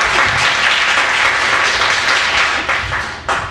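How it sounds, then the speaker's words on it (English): An audience at a comedy show honoring veterans and the Wounded Warrior Project breaks into loud, sustained applause and clapping, a dense roar that keeps going and dips slightly toward the end. "So give yourselves a round of applause"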